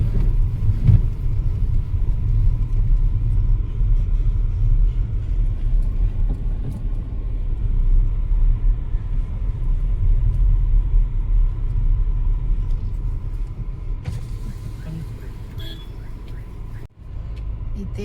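A car's engine idles and rumbles steadily at close range while it is parked at the Mahabaleshwar temple in Maharashtra, a continuous low drone lasting throughout with little change in level.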